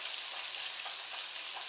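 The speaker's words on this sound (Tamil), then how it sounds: "1 நிமிஷம் வதக்குங்க" Shallots and green chillies sauté in a pan for a Tamil potato varuval, making a brief, steady, fairly soft sizzle throughout.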